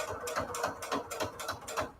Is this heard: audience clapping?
no